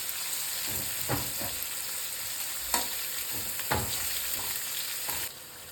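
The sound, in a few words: onions frying in oil for rice upma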